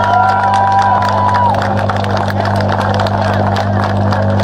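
A rally crowd applauds in a steady wash of clapping and cheering, heard through a loud, low electrical hum, with a brief tonal sound at the start.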